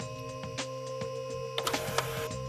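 A printer works close by, with mechanical whirring, a steady electronic tone and a quick series of clicks and feed noises as it prints.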